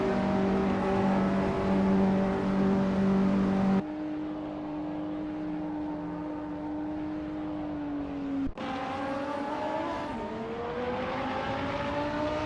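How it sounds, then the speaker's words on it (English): Retro street race cars roar past on a circuit, with sustained engine drones, a sharp shift in pitch as one car passes, and gear changes, loud and continuous with no talk. "The race looks competitive for them, close behind other retro street cars."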